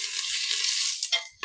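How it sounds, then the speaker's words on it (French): Garlic sizzles steadily in a saucepan, a close, loud hiss of frying, with a couple of brief scrapes and knocks at the end as a wooden spoon stirs it. "on va venir faire revenir tout ça dans notre casserole"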